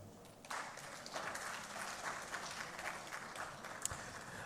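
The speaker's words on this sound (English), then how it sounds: "with a round of applause, welcome our moderator for this session" A conference audience at a forum on conflict prevention and sustainable peace applauds to welcome a session moderator, a soft, distant wash of many hands clapping that starts suddenly and holds steady.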